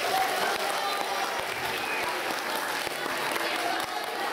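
An audience applauds at an award ceremony for the mayor's prize at Zvolen Castle, a sustained, dense clapping from a crowd that stays loud and steady throughout.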